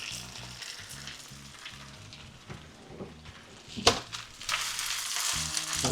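Spinach and eggs cooking in a pan, a steady close sizzle and crackle with occasional stirring scrapes and a low rhythmic hum underneath.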